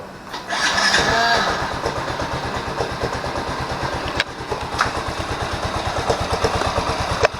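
A motorcycle engine treated with Wonderlube oil idles close by in a steady fast putter, loud and continuous with a few sharp clicks, no talk over it.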